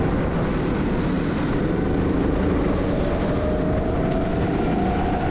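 Racing go-karts at the start of a heat at Pat's Acres, a loud dense engine drone with a rising whine from one kart passing close, continuous and without voices.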